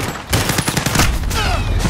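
Rapid video game gunfire rattles in a loud, continuous burst of overlapping shots, close and dense throughout.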